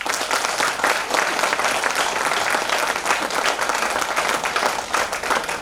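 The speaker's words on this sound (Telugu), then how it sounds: "ప్రతి బ్రాండ్ పార్ట్నర్స్ కూడా మనస్ఫూర్తిగా బిగినింగ్ క్లాప్స్" Dense, sustained clapping from a large audience of leaders and brand partners at a Casmolife nutrition business meeting, loud and even throughout with no pauses.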